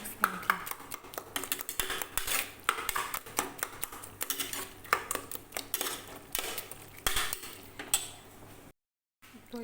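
A spoon clatters against a pot while cooked onion and tomato are stirred, with rapid, uneven scraping and clinking knocks close by that drop out briefly near the end.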